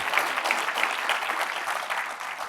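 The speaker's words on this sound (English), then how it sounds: "could we give another round of applause to Colin on the tablet" Keynote audience applauding a product demo given on a tablet, keyboard, mouse and iPhone; a dense, even roar of many hands clapping, fairly loud and continuous with no talk.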